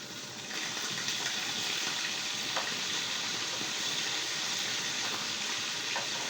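Tap water runs steadily into a kitchen sink while utensils are washed during home cooking, a constant broadband rush with a few faint clinks, fairly close and alone without talk.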